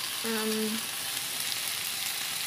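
Tofu skin and bell peppers stir-fry in a hot pan, giving a steady, even sizzle that runs throughout, with a brief tonal clink near the start.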